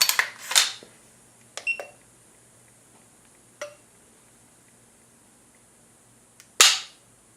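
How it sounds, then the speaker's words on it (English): A rifle trigger, measured with a Lyman trigger gauge, breaks in a few sharp, isolated metallic clicks and snaps separated by quiet pauses, close and crisp against near silence. "trigger pull with the Lyman trigger gauge"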